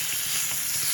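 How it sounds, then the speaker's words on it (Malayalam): Pearl spot fish (karimeen) frying in a pan, giving a steady, close sizzle with a bright hiss that holds evenly through the moment, with no voices over it. "അല്ല പിന്നെ നല്ല അലങ്കാരത്തിലങ്ങ് പൊരിച്ചേക്കാം."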